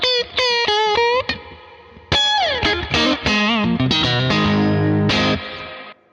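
Electric guitar played through a Bad Cat Classic Deluxe amp with a K-Master, giving thick, driven chords and ringing single-note lines with a saturated, full tone and some echo.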